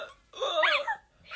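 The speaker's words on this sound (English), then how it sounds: "we need to hear these hiccups" A single hiccup-like vocal sound from a person with hiccups, brief and fairly close, with a rising squeaky tone and no talk around it.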